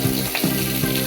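Chopped onion frying in hot oil in a kadhai, a short burst of close, loud sizzling and crackling with a few soft stirring scrapes and no voices.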